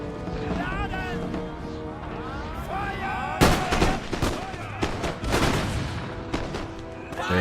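Musket volleys in an Empire: Total War battle during a Prussia campaign, with crackling rounds of fire from about midway on, layered over game music and battlefield noise while someone talks.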